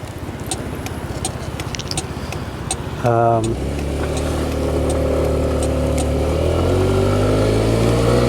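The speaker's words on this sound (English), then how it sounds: "For a 125 4-stroke, it's been really good. It's been an impressive bike." A 125cc four-stroke motorcycle engine under way while riding, a steady droning hum that swells louder and climbs in pitch as it accelerates, with rushing wind noise throughout.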